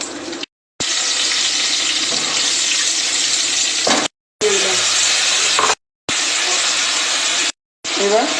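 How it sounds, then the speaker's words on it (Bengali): Nigella seeds (kalo jeere) splutter in hot oil in a pan after frying chitol fish, a steady bright sizzle broken by several short gaps. "এবার আমি কালো জিরে ফোড়ন দিয়ে দিলাম।"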